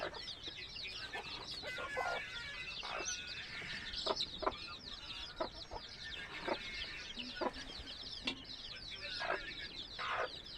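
A flock of chickens on a Marathi egg and poultry farm clucks steadily throughout, with overlapping repeated calls and a busy, continuous barnyard chatter at moderate distance.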